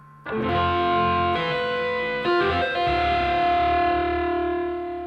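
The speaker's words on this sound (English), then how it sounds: "It's a little dissonant with the distortion." An electric guitar played through heavy distortion rings out in sustained, dissonant chords, loud and close, with a few restruck notes partway through and a long ringing decay.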